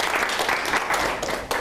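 An audience at a youth mental health forum applauds to welcome a speaker, giving dense, steady clapping from many hands that continues throughout.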